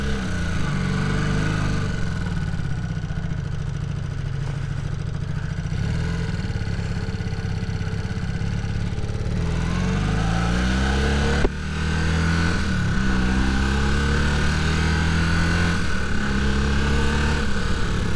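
A rebuilt Honda CB250 Super Dream motorcycle pulling away in first gear, its engine droning steadily close by, then pitch climbing as it revs up, with a brief gearchange-like break midway and no talk.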